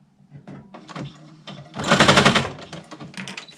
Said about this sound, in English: put it on the sewing machine, and I stitch it down